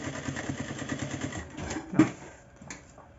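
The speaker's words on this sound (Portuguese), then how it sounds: "Retrocesso." A domestic sewing machine stitches a fabric binding onto a bag, running in a steady fast rattle, then briefly pausing and reversing into a short backstitch burst before stopping, fairly close and with no one talking.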